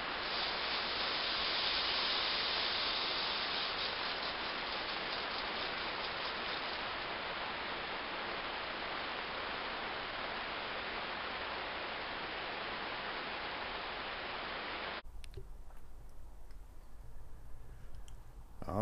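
Heavy rain pours onto a cactus greenhouse in a dense, even hiss that holds loud and steady, then cuts to a quieter, muffled stretch near the end.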